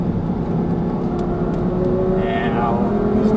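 Audi R8 V10 on a closed track, its engine droning steadily with pitch changes as it brakes and downshifts, a continuous close in-car roar under a talking voice.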